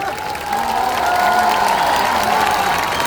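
A crowd at a Hindi-language election rally (jan sabha) claps and cheers during a speech, a continuous, fairly loud roar of applause and crowd noise with a sustained tonal hum running through it.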